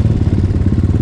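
A BSE Z3 enduro motorcycle on a country road chugs with a loud, close, pulsing low engine throb for about a second, with no voices.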